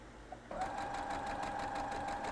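A sewing machine starts up and runs steadily at a fast, even stitching rhythm, close by, with no talking.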